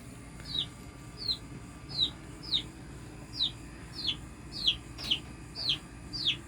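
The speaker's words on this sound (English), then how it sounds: "Ray, this is your new bitty brooder." Young chicks in a brooder peeping in a regular series of short high chirps, about one every half second, fairly close over a low steady background hum.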